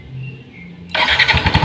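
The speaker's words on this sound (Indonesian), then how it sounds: "mesin dinyalakan nanti" A Yamaha NMAX motorcycle engine starts up close by after a quiet low hum. It catches abruptly and settles into a loud, pulsing idle, and no one talks over it.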